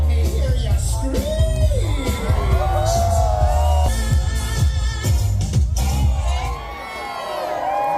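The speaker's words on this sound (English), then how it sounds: "How many super freaks do we have in the crowd tonight? Let me hear you scream." A crowd at the Busch Gardens Williamsburg Howl-o-Scream Halloween event screams and whoops loudly, many overlapping shrieking voices and yells with bangs, close and chaotic, fading slightly toward the end.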